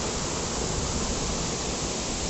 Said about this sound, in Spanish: estoy en una cascada